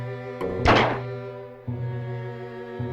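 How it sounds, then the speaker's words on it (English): A single soft, muffled thunk of a stylized gunshot in the puzzle game Storyteller rings out once over sustained droning background music. "So Butler took the gun and then he shot someone."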